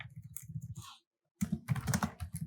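Rapid keystrokes on a computer keyboard while Java code is typed, close and crisp in quick bursts, with a brief pause near the middle before a denser run of clicks resumes.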